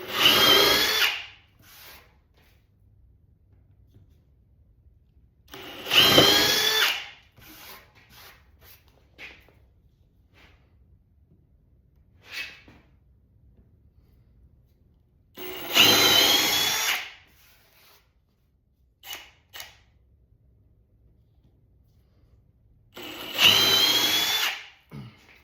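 A power drill bores into soft monkey pod wood in four loud, close bursts of whirring a few seconds long, separated by quieter pauses with faint handling noises and no talk.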